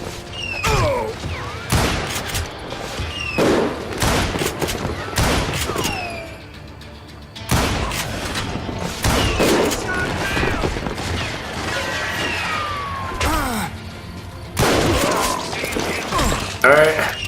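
Gunfire from a saloon shootout in the video game Call of Juarez Gunslinger, with repeated loud shots and ricochets in rapid bursts throughout, mixed with mechanical clacks and creaks.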